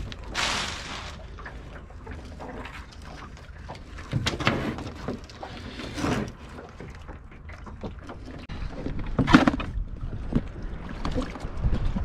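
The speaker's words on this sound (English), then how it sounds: "Climbing into a one-man blow-up dinghy." A person climbs into a one-man inflatable dinghy on the water, making close rubbery thumps, scrapes and sloshing in uneven bursts over wind noise on the microphone.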